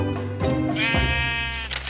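Sheep in the video game Minecraft bleat in a loud, close, wavering cry that swells and stretches, with a second bleat layered in, standing alone without talk.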